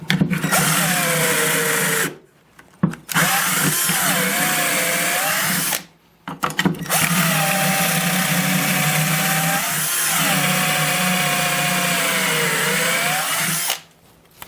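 A small 12-volt drill whines through three long, loud passes, boring pocket holes into wood set in a jig. Brief pauses between the passes carry clunks and rattles of the bit and workpiece.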